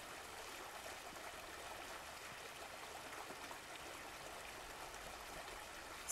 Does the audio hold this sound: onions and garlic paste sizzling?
no